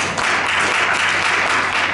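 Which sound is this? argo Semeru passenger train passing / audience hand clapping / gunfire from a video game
audience hand clapping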